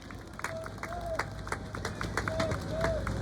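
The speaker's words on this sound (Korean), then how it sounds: "감사의 박수 부탁드리겠습니다" Crowd applauding at an outdoor election rally at a city intersection in Jeju, a scattered run of claps at moderate distance with a faint whistle-like tone over background noise.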